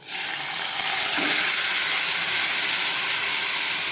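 Marinated chicken hits a hot pan and raises a loud, continuous hissing sizzle, steady and close throughout with no voices.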